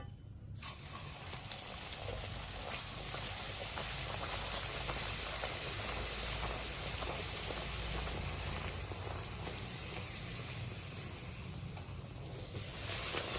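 Puri dough fries in hot oil, making a loud, steady, close-up sizzle that runs unbroken for the whole stretch with no voices.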